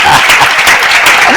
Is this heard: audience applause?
yes